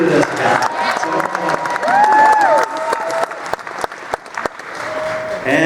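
Applause from a live convention audience rises across the stretch, a dense continuous clatter of many hands with some crowd noise and a few sharper individual claps near the end, loud and close.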